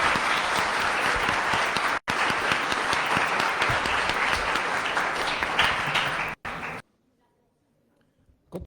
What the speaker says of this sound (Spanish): Les pedimos nuevamente brindarles un fuerte aplauso por su participación.